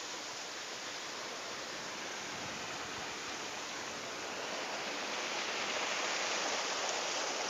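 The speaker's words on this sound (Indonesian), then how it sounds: "itu air terjunnya, ini air terjun teman-teman." A waterfall roars as a dense, unbroken rush of falling water, steady and fairly close, swelling slightly toward the end, with no voices.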